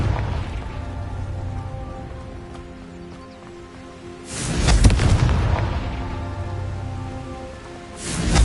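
A Confringo spell explosion in Hogwarts Legacy bursts loudly over a steady patter of rain-like ambience, swelling for about a second, followed by a second blast starting at the very end.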